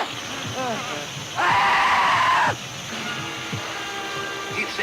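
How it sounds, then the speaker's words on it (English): Film sound effect of people screaming in an old adventure serial, a loud burst of shrill screams in the middle, surrounded by excited voices and cries. "Listen to those screams."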